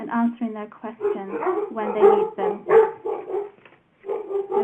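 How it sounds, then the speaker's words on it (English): Dogs bark in the background, short and intermittent, beneath someone speaking clearly in the foreground on a remote talk. "I apologize for the dogs barking in the background."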